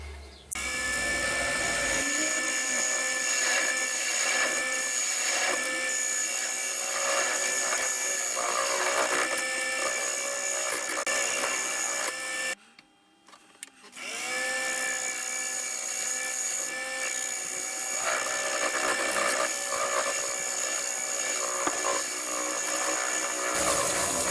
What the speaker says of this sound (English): So I'm just going to cut a mortise in here now, and hopefully the glue will stay on.